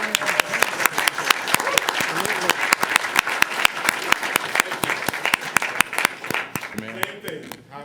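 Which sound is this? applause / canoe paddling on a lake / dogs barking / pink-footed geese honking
applause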